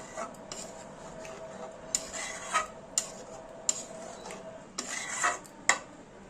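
Kolkata-style chicken chaap is stirred with a few drops of sweet attar in a pot, giving a series of close metal spoon scrapes and clinks in an uneven rhythm, with no voices.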